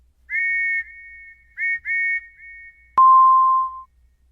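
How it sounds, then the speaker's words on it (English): A clear, sustained whistle in several separate blasts, short and long, ending with a sharp click and a lower held tone, loud and close. "Lily heard the sound of a train whistle outside her window."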